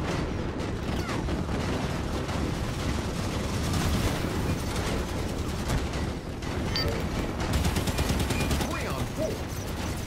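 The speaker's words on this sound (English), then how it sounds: "I'm getting shot at" Dense, continuous gunfire fills a Halo 5: Guardians multiplayer match on Xbox One, with overlapping bursts and rattling automatic fire running for ten seconds, steady and loud, while a player's voice talks faintly underneath.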